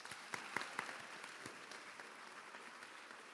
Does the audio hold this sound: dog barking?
no